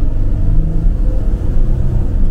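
A heavy Sprinter van, around 8,000 pounds, accelerates uphill with a loud, steady low engine rumble and road noise up close, no voices over it.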